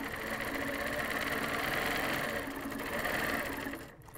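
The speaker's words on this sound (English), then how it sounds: "just stitch down vertical, and use your hopping foot for spacing" An HQ longarm quilting machine driven by a Pro-Stitcher Premium stitches steadily, giving a loud, continuous mechanical whir with a fast even needle rhythm that stops abruptly near the end.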